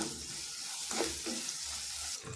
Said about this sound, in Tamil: எல்லாம் சேர்த்து நல்லா கலந்து விடலாம் வதங்கி வரட்டும்